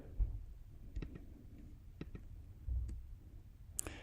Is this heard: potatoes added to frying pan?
no